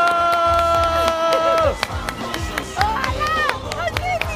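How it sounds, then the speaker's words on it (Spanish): Studio audience on a Mexican celebrity reality show claps and cheers, loud and close, with music and voices mixed in and crowd shouts breaking through. "¡Bravo! ¡Un aplauso!"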